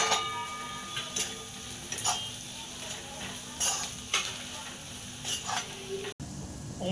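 Sautéed onion in a hot pan with turmeric and asafoetida added for a village-style Maharashtrian pithla tadka, a soft sizzle broken by repeated sharp spoon taps and scrapes against the pan, ending in a brief cut.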